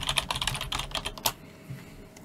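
Quick, close computer keyboard typing as a photography business name is entered into a Canva template, a dense burst of crisp key taps that stops about halfway through, leaving quiet room tone.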